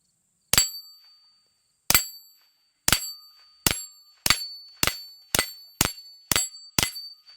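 Nine pistol rounds strike a rack of steel targets, each hit a sharp bright metallic clang with a ringing tail, the first few spaced widely and the rest coming faster and evenly, loud and alone.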